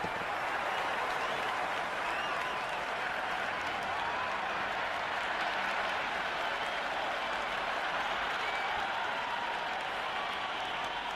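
Simulated stadium crowd in the video game Cricket 26 during an India versus South Africa T20 match, a steady far-off roar of cheering and clapping that holds without pause.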